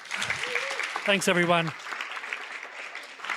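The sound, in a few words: audience applause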